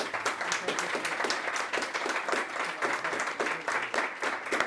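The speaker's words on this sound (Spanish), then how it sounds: "Un fuerte aplauso para Jaime." At the close of a talk on geopolitics and military affairs, the audience claps in a brisk, uneven patter of distinct hand claps at moderate volume, alone without talk.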